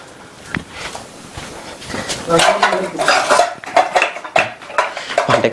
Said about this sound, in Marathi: जा उठ, भांडी घासून घे